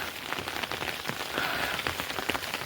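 Pre-monsoon rain falls on the mountain trail of the Rudranath yatra, a steady close patter of drops striking the ground and surfaces with no voices.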